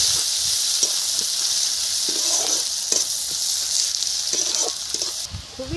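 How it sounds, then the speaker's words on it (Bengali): Bay leaf and onion hit hot fish oil in a wok, giving a steady bright sizzle with scattered clinks and scrapes of a stirring spoon throughout. "তেজপাতা ফোড়নে দিলাম, পেঁয়াজ দিয়ে দিচ্ছি।"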